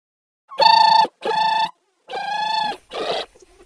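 An old-style telephone rings in four loud, buzzing bursts separated by short gaps, close and alone with no talk.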